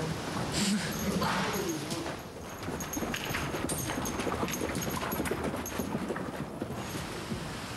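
Steady clip-clop of hooves from horses walking out of an indoor riding arena, a continuous rhythmic clatter with faint background noise and no talking.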